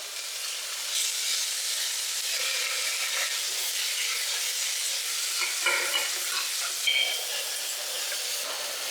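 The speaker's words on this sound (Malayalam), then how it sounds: "നമ്മൾ എടുത്തു വെച്ചേക്കുന്ന ഉള്ളി ഇട്ട് കൊടുക്കണം" Onions and shallots fry in a pan for Kerala-style kappa biriyani, giving a loud, steady, close sizzle throughout, with occasional brief stirring sounds on top.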